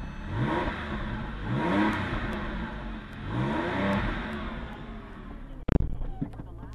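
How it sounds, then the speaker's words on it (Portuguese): A 2006 Porsche 911 Carrera revs repeatedly, its engine rising and falling in several surges, close and fairly loud, with a sharp knock near the end. "Escutar o barulho do motor aí"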